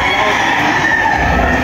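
Chickens and roosters at a game farm booth in an exhibition hall, a dense continuous crowing and clucking din, loud and close.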